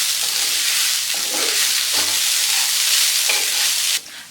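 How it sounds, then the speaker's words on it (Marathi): Grated coconut from two coconuts is stirred and mixed for a modak filling, giving a continuous close hissing scrape with soft, recurring stir strokes until an abrupt drop near the end. "मोदकासाठी मी इथे दोन नारळाचा वापर केलेला आहे ते ह्याच्यामध्ये घालून घेऊया आणि मिक्स करून घ्यायचं आहे"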